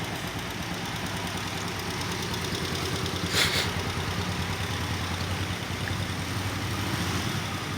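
A motorcycle engine idles steadily at a riding-school practice session in Valenzuela, a constant low rumble with a fine vibrating texture throughout and a brief brighter burst midway.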